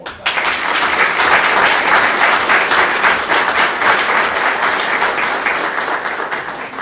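Audience at a candidates' forum breaks into steady, sustained applause, a dense crowd of clapping hands filling the room for several seconds without any speech.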